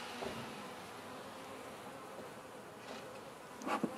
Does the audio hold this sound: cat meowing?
no